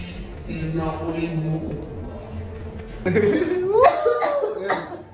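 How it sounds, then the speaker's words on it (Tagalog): A voice murmurs briefly, then a burst of several harsh coughs follows, close and fairly loud. "inuubo na ako"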